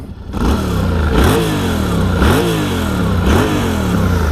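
A 2020 Yamaha Tenere 700 motorcycle starts and idles, then its engine is blipped several times in a repeating rise-and-fall pattern of revs, close and loud with a mechanical clatter underneath.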